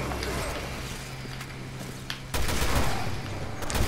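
Assault rifle fire in the Resident Evil Revelations 2 video game, heard as a dense burst that starts abruptly midway and keeps going loud to the end, following quieter game ambience.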